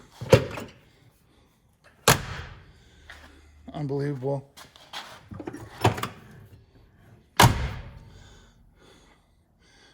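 Doors of a 1961 Cadillac shut with solid, heavy thunks, three or four separate closes spaced a couple of seconds apart, close by, with someone talking briefly between them.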